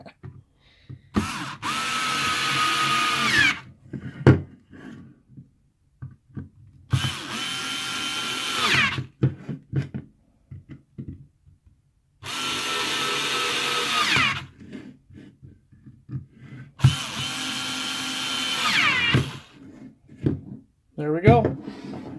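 An electric screwdriver whirs in four separate bursts of about two seconds each while a small toy car is taken apart, with quieter handling clatter between the runs and someone speaking briefly near the end.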